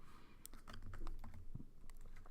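Typing on a computer keyboard, a quick, uneven patter of soft key clicks, close but faint over a low background hum.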